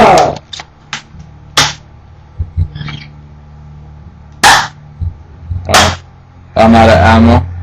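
BB gun shots fired at a kid, a series of sharp, close snapping cracks at irregular intervals, interspersed with yelps and short bursts of talking.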